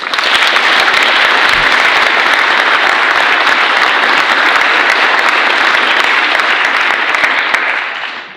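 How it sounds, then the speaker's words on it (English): Sustained applause from an audience at an award ceremony, loud and dense, holding steady for about eight seconds before fading at the end. "So let's please give them a round of applause."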